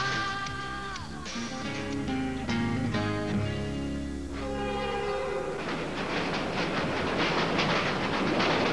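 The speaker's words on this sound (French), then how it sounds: "Les invités de Michel Jasmin sont transportés en première classe à bord des trains de Via Rail" A Via Rail passenger train sounds its horn in long sustained blasts, then rolls past with loud rumbling and rhythmic clatter of wheels on track, growing noisier toward the end.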